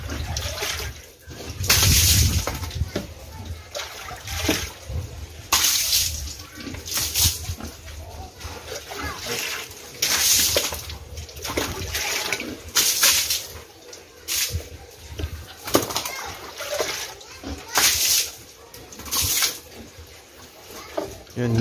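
Water from a strong-pressure hose splashes and sprays over a pig being wetted before soaping, in bursts of irregular splatter with intermittent talk over it.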